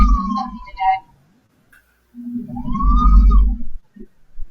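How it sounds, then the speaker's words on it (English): A sewing machine lets out ugly, straining whining noises in two separate bursts with a silent pause between them, fairly loud and close. "my machine's making ugly noises at me"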